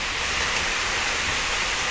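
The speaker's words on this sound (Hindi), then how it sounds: "बारिश तो झमाझम हो रहा है" Heavy rain pouring down outdoors around a car, a steady, even hiss of falling water with no breaks and no speech.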